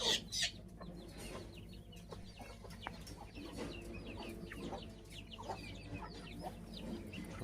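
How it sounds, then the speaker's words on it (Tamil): Several chickens, including a grey hen and guinea fowl, cluck and murmur continuously nearby, with occasional sharper squawks over a low steady background hum. "கிரே கோழி இங்கே இருக்குது கின்னி கோழி துரத்தி விட்டுருச்சு"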